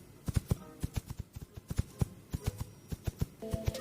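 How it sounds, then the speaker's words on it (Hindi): Foley hoofbeats of a walking horse, made for a movie sound effect, come as a steady series of sharp clip-clop knocks in a walking rhythm, close and alone, with a brief tonal sound near the end. "हॉर्स के चलने की आवाज कुछ ऐसे रिकॉर्ड होते हैं"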